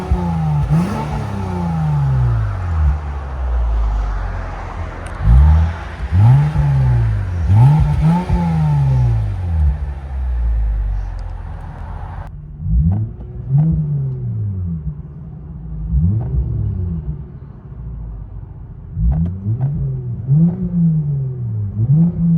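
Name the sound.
Lexus IS 350 V6 exhaust with Valvetronic valves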